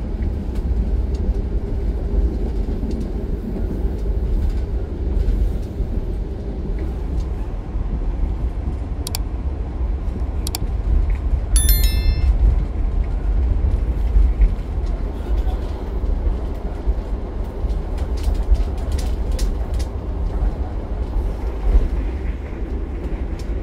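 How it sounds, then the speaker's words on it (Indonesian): The Menoreh economy train pulls out of Cirebon Prujakan station with a steady loud low rumble and rolling wheel noise, plus a few brief high squeals and clicks partway through. "Kereta api Menoreh sudah berangkat dari stasiun Cirebon Perujakan"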